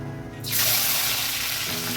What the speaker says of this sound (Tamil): வடகம் தாளிக்கணும்.